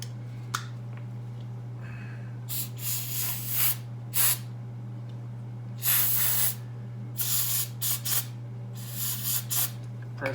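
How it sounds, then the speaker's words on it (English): Carb cleaner is sprayed onto a 1985 Harley-Davidson FXRS Evo clutch part in short bursts of sharp aerosol hiss, about six or seven quick spurts of varying length over a low steady hum. "So carb cleaner works good for that."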